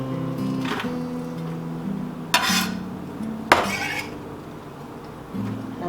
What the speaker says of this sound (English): Gonna toss in the onion.